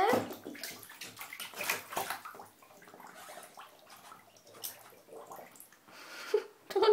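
A dog is bathed in a bathtub, with intermittent water splashing, sloshing and dripping close by, some gurgling bursts and quiet gaps between them.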